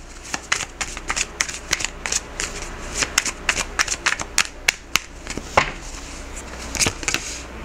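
Tarot cards riffled and shuffled close up, a run of crisp snapping flutters with brief pauses between bursts, no one speaking.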